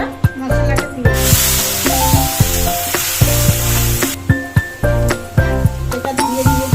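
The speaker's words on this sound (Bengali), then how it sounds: "কড়াই গরম হয়ে গেছে, একটু তেল দিয়ে দিই। এবারে পেস্ট করা মশলাটা দিয়ে দিই।" Ground spice paste fries in hot oil in a wok for Bengali doi maachh, giving a loud, continuous sizzling hiss. Repeated metallic clinks and scrapes of a spoon stirring cut through it.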